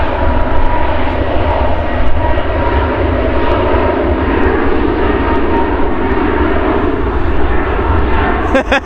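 Steady broadband roar of EasyJet airliner engines at Manchester Airport, loud and continuous throughout, with people talking over it.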